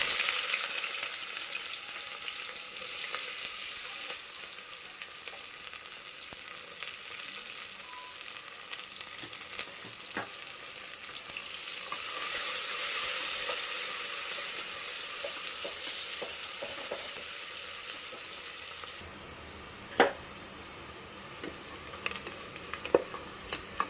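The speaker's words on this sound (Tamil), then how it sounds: "எண்ணெய் சூடாயிடுச்சு, வெங்காயத்தை போட்டுக்கலாம்." Onions sizzling in hot oil in a pan while cooking vegetable biryani, a steady bright frying hiss with occasional crackles and a few stirring clinks, no voices.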